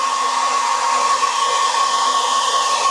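A high-pressure PCP air compressor runs steadily at close range, a constant loud mechanical whine with a fan-like rush and no talking.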